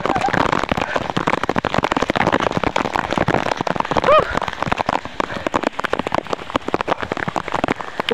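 Heavy rain patters densely and steadily on a surface nearby, a constant crackling downpour with a brief voice mid-way.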